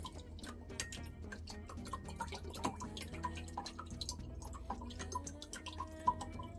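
Coconut water being poured into a melon drink: soft drips and light trickling, quiet and close, with small irregular ticking splashes and no talking.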